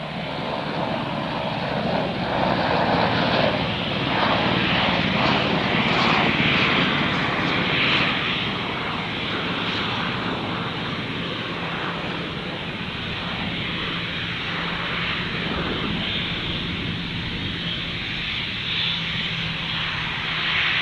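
A passenger plane roars steadily at Gold Coast Airport, a loud sustained engine rumble and whine that holds for the full stretch with no voices.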